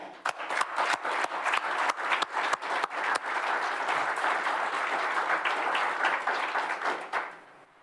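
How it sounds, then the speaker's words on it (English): A crowd at the Military Child of the Year 2023 ceremony claps and applauds steadily for several seconds, the dense clapping holding strong before tapering off at the end. "can we get a round of applause for the parents?"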